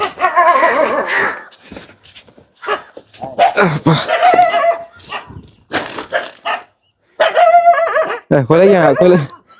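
Several dogs bark and yip near an elderly couple's home, in irregular bursts with short whimpers, mixed with people talking close by.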